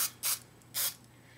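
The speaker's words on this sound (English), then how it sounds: "spray a little bit in your hand" Big Sexy Hair Root Pump Spray Mousse sprayed into a hand in two short, close hissing bursts, separated by a brief pause.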